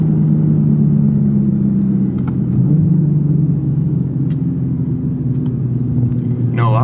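A Toyota Supra's exhaust drones loudly and steadily while the car is driven, a low continuous rumble heard from inside the cabin.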